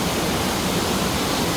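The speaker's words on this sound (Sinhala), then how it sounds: "උඩහ වලෙන් එන වතුර පාර තමයි මෙතනින් බැහැගෙන යන්නේ." Rushing water of a stream pouring down past the Mulatiyana waterfall, a dense, loud, unbroken roar filling the whole clip, close by and steady with no voices.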